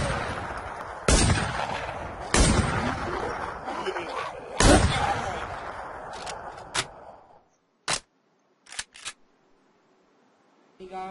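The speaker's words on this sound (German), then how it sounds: "Ich schieße, geh weg." Gunfire in the video game The WarZ: several loud, sharp single shots ring out over about seven seconds, each with a trailing echo, followed by a few quieter, short clicks and pops in near silence.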